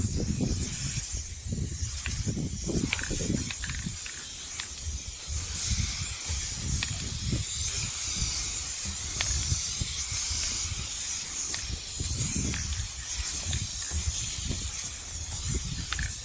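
Spray paint hisses steadily from a can onto a Roland AX Edge keytar outdoors in the wind, a continuous close hiss in long bursts with only brief pauses.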